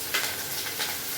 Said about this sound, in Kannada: ನೋಡಿ, ಎಣ್ಣೆ ಕಾದಿದೆ. ಸಾಸಿವೆ ಹಾಕಿದೆ, ಜೀರಿಗೆ,